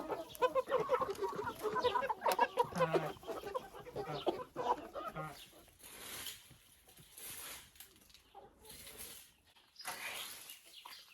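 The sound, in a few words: chickens clucking while being fed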